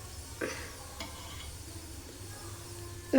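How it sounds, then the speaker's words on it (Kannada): Cooking oil going onto a hot pan, a brief soft sizzle with a couple of light metallic scrapes and knocks, close and fairly quiet. "ಹಂಚನ್ನು ಅಲ್ಲಿ ಎಣ್ಣೆ ಹಾಕ್ತಾ ಇದ್ದೀನಿ"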